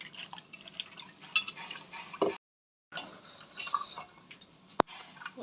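Dried meat pieces being rinsed in water, with intermittent splashing, drips and light clinks of a vessel, close by and fairly quiet, broken by a brief silent gap.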